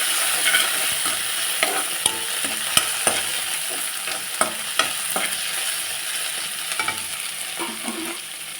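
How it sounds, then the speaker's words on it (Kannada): Chopped tomatoes frying in oil in a pan while a spoon stirs them, a steady sizzle broken by repeated scraping clicks of the utensil against the pan, close and continuous with no talking. "ಟೊಮೊಟೊನ ಹಾಕಿ ಸ್ವಲ್ಪ ಫ್ರೈ ಮಾಡ್ತೇವೆ"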